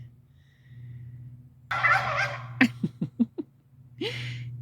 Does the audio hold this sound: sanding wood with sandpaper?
no